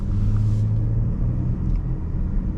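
Chrysler 300 car on a highway: a steady low engine and road rumble from inside the cabin, with a brief higher hum early on, continuous and fairly loud, no talk.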